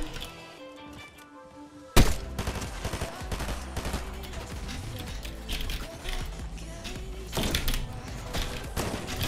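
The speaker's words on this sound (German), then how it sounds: "Mein Bot wird von anderen Bots angeschossen" Bots trade fire in a Fortnite match, bursts of gunshots cracking in after a quieter opening, then repeated shots and impacts rolling on loud and close with game effects mixed in.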